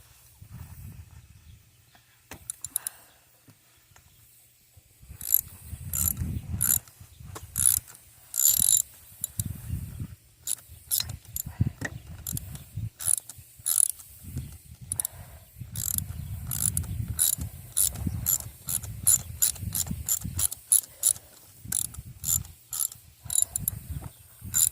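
Rapid ratchet clicking works loose the small valve cover bolts on a Honda Foreman 450s ATV engine, in repeated close bursts with pauses and occasional clanks as the socket is moved between bolts.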